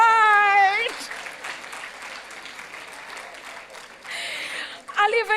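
Audience applause at a gala dinner, a broad wash of clapping that swells and fades, with voices talking over it at the start and again near the end.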